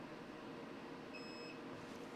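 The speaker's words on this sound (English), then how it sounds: "Listen for the beep." A brief, faint electronic beep from a Thunder Laser Bolt engraver, a pure tone lasting under half a second, sounds over a steady low hum of machinery.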